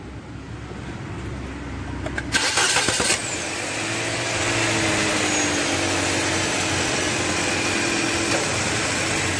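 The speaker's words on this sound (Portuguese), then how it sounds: "Liga o carro e o ar." A Nissan Sentra engine cranks and catches with a brief burst of starting noise, then settles into a steady idle as the air conditioning compressor kicks in, a continuous close hum with no talking.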